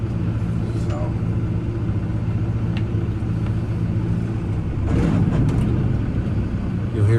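A Land Pride 2672 brush mower runs at low PTO RPM, a steady low engine rumble and drone with faint intermittent clanks, a voice briefly speaking over it.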